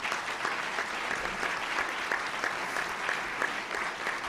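Steady, moderately quiet applause from a luncheon audience at the National Press Club, an even wash of clapping that holds at the same level throughout without voices.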